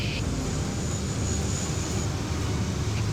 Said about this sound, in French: Horus, l'avion de l'aérosurveillance, décolle